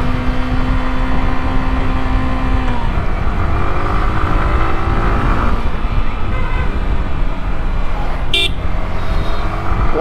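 A Yamaha R15M motorcycle on the move, its engine and road noise forming a loud, steady roar from start to finish, with a brief high tone near the end.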